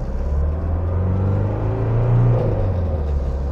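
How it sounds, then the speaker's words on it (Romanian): A 1979 Mercedes W123 240D diesel idles steadily up close, a deep low rumble with a fast rhythmic tappet clatter and injection-pump knock running throughout, the metal, unsoundproofed engine bay making it sound hard and mechanical. "Dar n-are cum să nu-ți placă țăcănitul ăsta de tacheț și sunetul de pompă."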